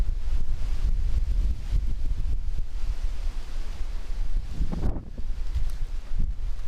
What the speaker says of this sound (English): It's very windy, as you can see, but it's been a windy day anyways.